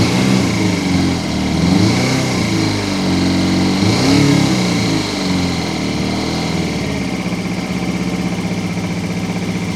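A Honda XR200R motorcycle engine with a carburetor problem runs roughly, loud and close. The drone is steady but wavering and uneven, with a faint rise and fall in pitch.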